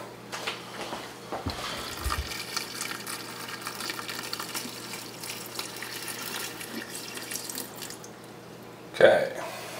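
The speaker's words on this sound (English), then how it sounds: "Add a little bit more water." Water runs and trickles steadily into a Fluval Spec 2.6-gallon aquarium, with small splashes and drips, ending in a louder splash near the close.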